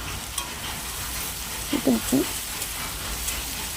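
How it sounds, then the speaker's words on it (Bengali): Potatoes frying in a pan, cooked for a kakchi fish and Malabar spinach dish, give a steady close sizzle with a few brief stirring scrapes near the middle. "আলুটা দিয়ে তারপরে ভালো করে ভেজে নিতে হবে।"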